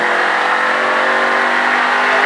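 A car runs at full throttle on a track, its engine holding a loud, steady, sustained roar for the whole stretch with no pause.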